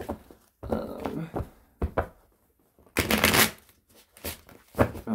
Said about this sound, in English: Let's get one good shuffle, maybe two